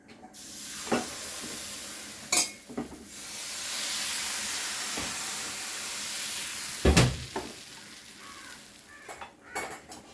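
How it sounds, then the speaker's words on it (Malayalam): Vellayappam batter poured onto a hot pan gives a broad hissing sizzle that swells and holds, broken by sharp clinks and clanks of utensils against the pan at irregular moments. "നമുക്ക് ഒന്ന് ഒഴിച്ചു നോക്കിയാലോ നമ്മുടെ വെള്ളയപ്പത്ത് എങ്ങനെ വരുന്നത്"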